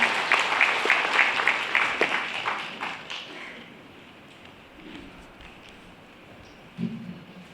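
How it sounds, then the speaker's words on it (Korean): Welcoming applause from a lecture audience for a city mayor, loud and dense at first, then fading out over a few seconds into quiet room noise. "환영의 박수 부탁드립니다."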